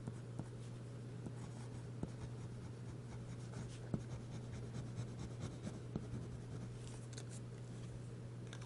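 Fine-nib Lamy Safari fountain pen scratching across paper in a quiet room, a steady run of faint strokes and small taps over a low constant hum.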